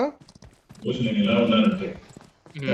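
A horse in the PUBG Mobile battle-royale game gallops with steady clip-clop hoofbeats over about a second and a half, while players talk over it before and after.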